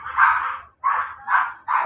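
Two pet dogs bark in a short burst of four loud, close barks outdoors near an apartment building, with brief gaps between them and no talking.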